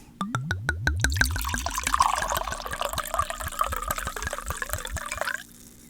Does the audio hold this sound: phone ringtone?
no